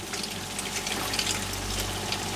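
Water gushing steadily from a motorhome tank outlet, a continuous broadband rush with sputtering bursts as air is drawn through, close and fairly loud with no voices.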